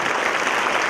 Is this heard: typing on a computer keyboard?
no